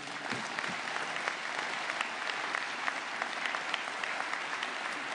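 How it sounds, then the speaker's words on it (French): Sustained applause from a large audience at a business conference hall for small and medium enterprises, a continuous even wash of many hands clapping with no speech over it. "Eh bien, maintenant, vous pouvez applaudir."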